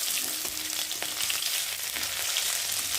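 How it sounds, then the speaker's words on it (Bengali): Garlic frying in hot oil, a steady close sizzle with small crackles and pops running throughout, no one talking. "রসুনটা একটু ভালো করে ভেজে নেবো"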